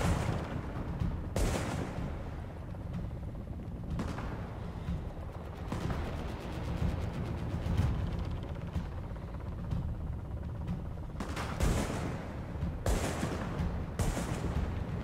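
Loud bursts of gunfire in Tom Clancy's The Division on PC erupt repeatedly during a boss fight over a dense, continuous roar of game action, several sharp shots clustered near the start and end.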